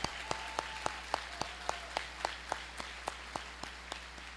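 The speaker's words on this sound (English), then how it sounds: "Let's give them a round of applause for all the hard work that has brought them to this point today." Applause for 8th grade students at a middle school moving-up ceremony, heard as a sparse, steady series of sharp, evenly spaced claps over a quiet background.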